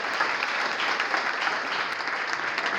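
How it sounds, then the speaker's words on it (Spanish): Audience members at a public-speaking conference applaud the lecturer, giving a steady, even wash of clapping at moderate distance with no pauses. "yo quiero que se sienta fuerte ese aplauso para el expositor."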